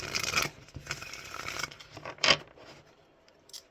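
Cards riffle and snap in short, crisp bursts, a few quick shuffles close by with brief pauses between them.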